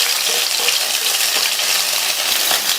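Chopped mint leaves hit hot oil in a pan while cooking a vegetarian lunch, giving a steady, loud, close sizzle with a bright crackling hiss throughout and no talking.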